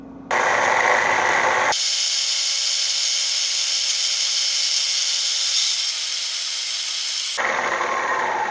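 A metal lathe takes a long cut along lengthy work, a loud steady hissing whine of the tool on the metal that holds unbroken for several seconds between louder bursts of machine noise at the start and end.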